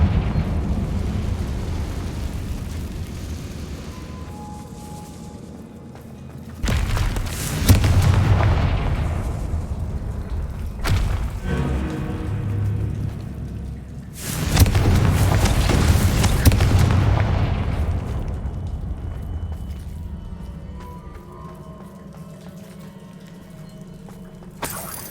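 Two heavy, booming magical blasts erupt in Hogwarts Legacy as the Confringo spell is cast, each a sudden loud burst that rolls off into rumbling debris and low game ambience.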